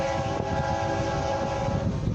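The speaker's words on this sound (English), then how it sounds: "I can hear the roar of that train, baby." An eastbound freight train carrying grain, mixed freight and steel roars past close by on a windy afternoon, a loud, steady rumble of rolling cars with a sustained horn tone running through it, no voices.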